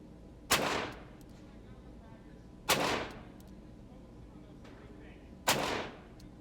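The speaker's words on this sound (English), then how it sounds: "We're going to shoot some rapid fire." Three rapid revolver shots fired at a target on a range, evenly spaced about two and a half seconds apart, each a sharp loud crack with a short decaying tail.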